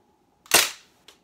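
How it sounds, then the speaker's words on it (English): Umarex MP40 Legends CO2 BB gun fired once into a beanbag: a single sharp, loud crack with a brief decaying hiss, then a faint click a moment later. "I'll just shoot it into the beanbag."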